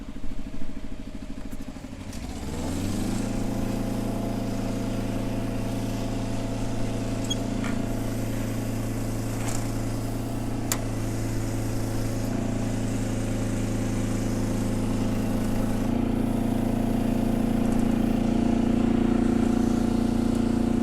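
A Monitor 1890 spider boom lift runs steadily during stowing, its engine starting up after a couple of seconds and then holding a continuous close droning hum, with occasional faint clicks over it.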